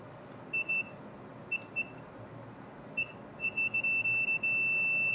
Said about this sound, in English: just listening for the beep.